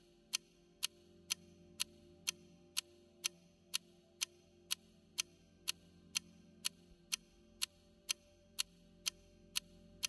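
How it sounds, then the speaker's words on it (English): A clock ticks steadily and crisply, about two strikes per second, each tick sharp and evenly spaced over a faint low hum, with no voices. "Focus your attention on the tick of the clock."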